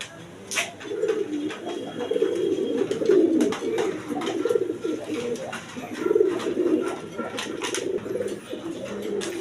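Pigeons for sale coo steadily in a low, rolling chorus throughout, with a few sharp clicks and flutters mixed in and faint talk in the background.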